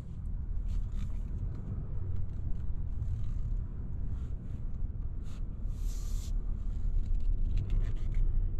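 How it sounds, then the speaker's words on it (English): Ram 2500 Laramie Night Edition pickup truck easing off the edge of a driveway, heard as a steady low engine and road rumble with faint creaks and brief scrapes, with no talking. "What if I drive kind of off the side of my driveway?"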